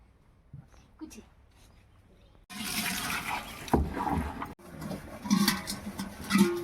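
Water from a tap begins pouring into a container after a few seconds of quiet, a loud, continuous splashing gush with brief breaks, while people talk nearby over it.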